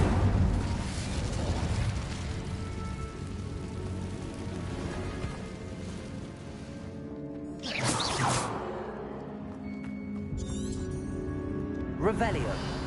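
Incendio fire spell cast in Hogwarts Legacy, a roaring whooshing burst of flame over dense combat noise, with later crackling flares and shimmering magical effects.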